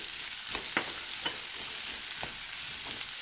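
Minced garlic, zucchini and onion stir-fry in a pan with a constant close sizzle and a few soft scrapes of a spatula, no voices.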